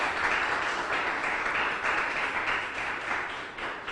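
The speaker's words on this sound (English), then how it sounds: "Let's give them a round of applause." Audience applause at a city mayor's public announcement event, continuous dense clapping from many hands, fairly close and steady for several seconds.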